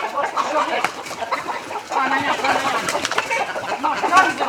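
Hens cluck and squawk in a busy, continuous flock, fairly close, with faint voices mixed in.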